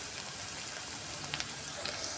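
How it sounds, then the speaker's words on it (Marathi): Garlic sautéing in hot oil for a restaurant-style cashew curry, a faint, even, crackling sizzle with a few small pops. "लसूण तेलामध्ये परतवल्यानंतर"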